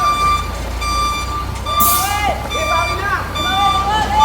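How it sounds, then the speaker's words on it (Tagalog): A container truck pulls in with a steady, repeating reversing beep sounding clearly over low engine rumble, while people talk and call out nearby. "At sa wakas, dumating ka rin container ka."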